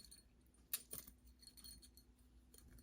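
A small metal cross-stitch zipper pull charm jingles in one quick bright burst of clinks, with a lighter rattle just after, faint and close against a quiet room.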